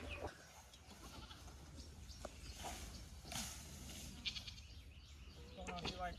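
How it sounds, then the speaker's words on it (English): A goat bleats faintly a few times outdoors amid soft footsteps and rustling, with a person talking nearby. "And so we're gonna take this goat up to the backyard with Dandy and Caleb"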